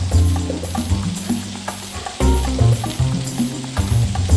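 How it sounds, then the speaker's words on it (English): Julienned Vidalia sweet onion sweating in a hot pan sizzles loudly and close, with stirring scrapes and clatters breaking in, one brief pause, then the frying resumes, no one talking. "This is just julienne sweet onion, Vidalia onion. We're going to sweat these for about 2 minutes."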